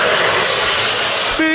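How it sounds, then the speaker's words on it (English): Loud passing train heard from close by, a steady roaring rumble and hiss filling the whole moment, with a faint tone near the end. "God, that train is loud."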